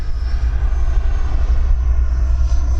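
An E-flite Viper 90mm RC ducted fan jet roars loudly and steadily as it takes off at half throttle and flies overhead, a constant whooshing turbine-like drone.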